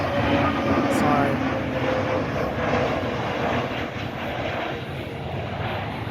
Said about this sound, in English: United Airlines MAX 9 inbound from EWR, New York.